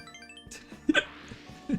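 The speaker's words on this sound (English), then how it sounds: "Oh no, I have the hiccups." A few short, sharp hiccups, close and distinct, spaced out at uneven intervals, amid faint background music.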